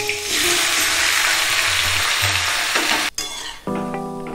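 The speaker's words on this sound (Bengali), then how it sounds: "সবগুলোকে একটু নাড়াচাড়া করে ভেজে এর মধ্যে দিয়ে দিচ্ছি কেটে রাখা টমেটো।" Chopped tomatoes hit a hot pan of oil and spices, giving a loud, steady sizzle and frying hiss with stirring, briefly cut off near the end before resuming more unevenly.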